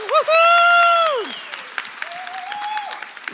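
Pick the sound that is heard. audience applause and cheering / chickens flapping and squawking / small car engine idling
audience applause and cheering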